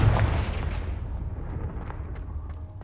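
A Confringo blasting spell goes off in Hogwarts Legacy, one loud booming explosion that starts at once and slowly fades into a rumbling decay with no speech.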